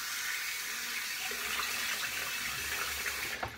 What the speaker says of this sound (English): Gonna use some cold water.